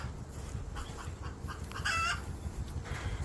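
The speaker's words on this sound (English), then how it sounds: "Chickens making heaps of noise." Backyard chickens cluck and squawk at a fairly distant, quiet level, with one louder burst of calls partway through against soft outdoor background noise.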